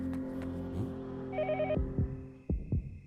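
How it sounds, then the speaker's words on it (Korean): A telephone rings in the horror game Yomawari, a trilling electronic ring pulsing in a short burst, followed by a few deep thudding beats over a low droning ambience. "전화 소리 뭔가 크게 들린 거 보니까 지금 이쪽인가 본데"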